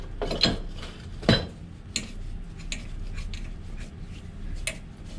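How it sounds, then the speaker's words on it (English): A wrench ratchets in short, irregular clicks and ticks during boiler maintenance in a cramped space, with a few sharper metallic knocks, close and fairly loud with no talking. "there's no room to move the wrench"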